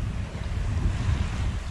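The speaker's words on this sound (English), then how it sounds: "The sailing's going very well." Sailing boat heading toward St. Peter's Canal under about eight knots of wind, a continuous rushing of wind and water against the hull with heavy low buffeting, close and loud, with no voices.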